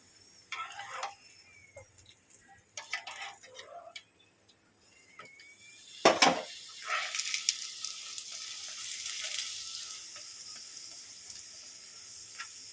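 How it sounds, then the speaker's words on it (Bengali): Chicken keema stuffed paratha sizzles as it fries in a pan, a steady hiss that swells into a dense, bright frying sound halfway through, with softer scrapes and clinks earlier. "আমি সবগুলো পরোটা এইভাবে ভেজে নিয়ে ফিরে আসছি"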